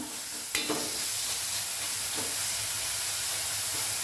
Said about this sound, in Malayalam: ഹൈ ഫ്ലെയിമിൽ അഞ്ച് മിനിറ്റ് വഴറ്റിയിട്ടുണ്ട്